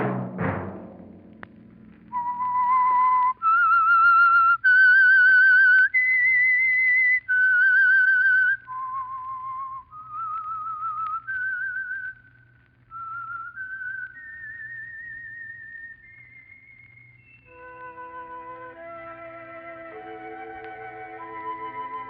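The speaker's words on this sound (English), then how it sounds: "Let that whistle be your signal for the Signal Oil program, The Whistler" A lone whistler performs the eerie theme melody of The Whistler radio mystery program, a rising and falling sequence of sustained, clear notes that shifts into a brief orchestral-sounding chord at the end, loud and close over a faint low hum.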